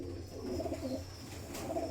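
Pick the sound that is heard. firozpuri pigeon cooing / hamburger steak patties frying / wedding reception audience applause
firozpuri pigeon cooing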